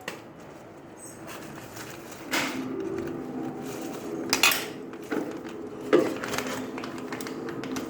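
Metal spoon clinking and scraping against a dish while scooping filling into small packets, a few distinct taps and clatters over a steady background hiss, with no talking.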